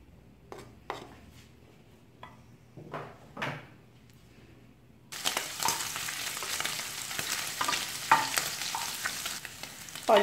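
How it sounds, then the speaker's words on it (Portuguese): About 150 grams of bacon starts frying in a pan, a steady close sizzle breaking in suddenly halfway through after a few quiet clinks and knocks in a kitchen. "Olha, o bacon já está fritando."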